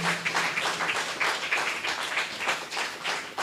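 Audience applause at an academic conference on decoloniality, thanking a panel of speakers: steady, dense clapping from a seated crowd that holds an even level throughout without talk.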